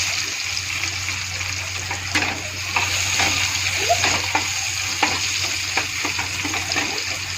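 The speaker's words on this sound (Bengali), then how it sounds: "পেঁয়াজটা ছেড়ে দিয়েছি।" Onions hiss and sizzle in a hot pan with chopped chilli, a steady crackling fry at close range with scattered pops and spatters, plus a few stirring scrapes.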